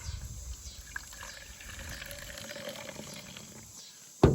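Plant-based homemade soap liquid pours from the spout of a pot into a jar, a quiet, close trickle running throughout and ending in a sudden loud knock.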